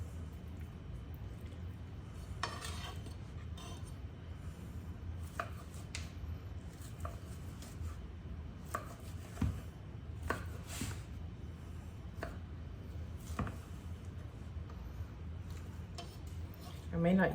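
Knife cubing ham on a cutting board, sharp chopping taps in irregular clusters over a low steady background, soft talking in places.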